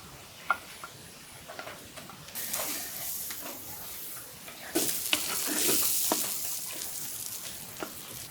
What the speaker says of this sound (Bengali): গোদা চিংড়ি মাছ ভাজা হয়ে গেছে